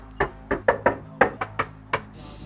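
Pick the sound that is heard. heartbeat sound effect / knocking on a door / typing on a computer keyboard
knocking on a door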